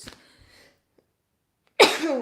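A single sudden, loud sneeze bursts out near the end after a brief quiet pause.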